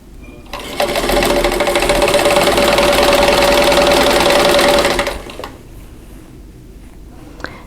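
A sewing machine chain-pieces quilt block seams with a 1/4 inch allowance, running in one fast, steady whirring burst of about four seconds before stopping, followed by quiet handling of fabric.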